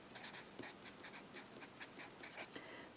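Pencil or pen writing numbers on paper while working a math equation, with a quick series of scratchy strokes and short pauses, close and fairly quiet, no talking.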